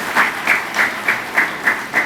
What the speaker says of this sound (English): Let's give Mr. Samai a round of applause this morning